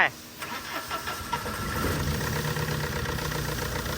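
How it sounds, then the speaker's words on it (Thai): A Tata diesel truck engine, just repaired after a snapped timing belt, cranks and catches, then settles into a steady, slightly shaky idle, close by, with someone talking over it. "อ่าเครื่องติดนะแต่สั่นนะ"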